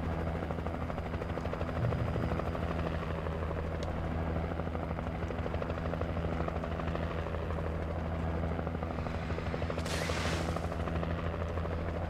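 Helicopter in the video game Alan Wake, a steady loud rotor drone that holds throughout, with a brief hissing burst near the end.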